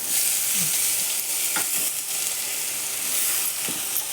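Grated potato dropped into a hot pan with cumin seeds and chopped green chillies, giving a steady, close sizzle and fry hiss with brief stirring clinks throughout, no talking over it.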